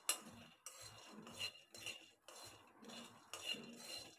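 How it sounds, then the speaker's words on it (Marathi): A spoon scrapes and stirs dry peanuts roasting in a pan for chutney, in repeated rhythmic rattling strokes, close and fairly quiet, with no talk. "व्यवस्थित भाजून बघा, परत एकदा हलवून घ्यायचं"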